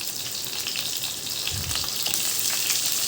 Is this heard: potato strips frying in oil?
yes